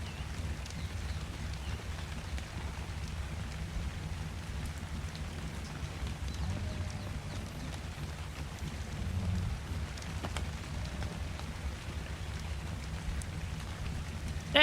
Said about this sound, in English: I'm going to wait till the rain's out, guys, just so it's a little bit brighter